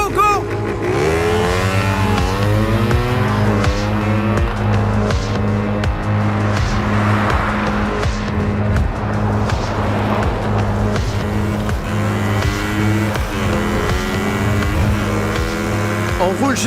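A car drives north of the village of Matimekush toward Schefferville at night, its engine a steady, close drone with shifting tonal whine and road rumble continuing throughout.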